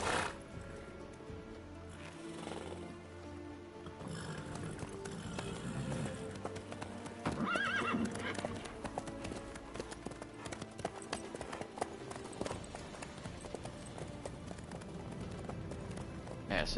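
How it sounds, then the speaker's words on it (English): A horse canters in The Witcher III, its hooves clopping in a steady rhythmic patter beneath game dialogue and background music. "massive horse is swift, then barely even canters."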